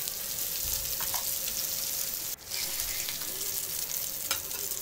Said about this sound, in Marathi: मच्छी फ्राय झाली.